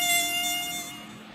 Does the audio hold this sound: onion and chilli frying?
no